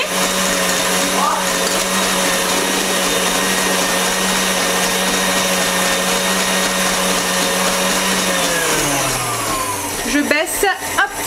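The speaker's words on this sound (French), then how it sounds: "le robot fait un peu de bruit" A kitchen stand mixer whips cream with mascarpone, a loud steady motor whine running throughout, then slowing and dropping in pitch near the end as clatter and handling noises follow.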